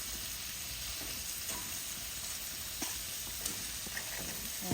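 Steak, lobster and scallops sizzle on a grill, a quiet, steady frying hiss with a few soft pops and crackles and no talk.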